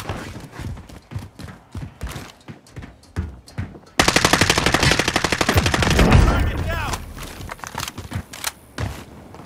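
Rapid automatic gunfire in the video game Call of Duty: Modern Warfare, loud and close, a dense burst of rattling shots after scattered single cracks, with players talking over the action.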